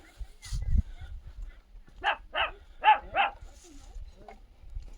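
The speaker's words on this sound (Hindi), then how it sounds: "एक कुत्ता ही भौंक रहा है।" A dog barks in a quiet mountain village in Uttarakhand, giving four sharp barks in quick succession at moderate distance, with faint rustling and low handling noise around them.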